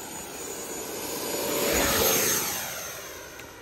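A Freewing 80mm L-39 RC model jet makes a low, fast pass, its ducted-fan whine swelling as it nears and fading as it goes by outdoors.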